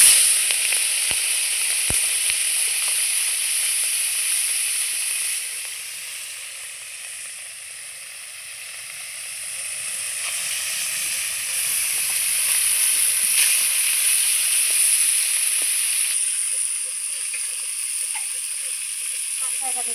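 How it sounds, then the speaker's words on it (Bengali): Puti fish rubbed with salt and turmeric frying in a kadai, giving a steady, close, bright sizzle that hisses continuously throughout, swelling and easing slightly with occasional crackles. "আমি এদিকে পুঁটি মাছটা ভেজে নিচ্ছি শলা কচুটার জন্য"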